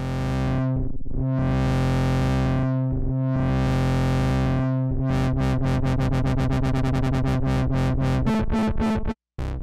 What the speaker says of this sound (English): This could work as a dubstep bass sound.